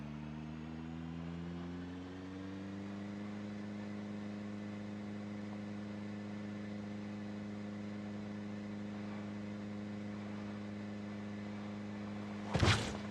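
A car engine from the Project Zomboid video game hums steadily at a constant pitch while driving, with a short sharp mechanical click near the end.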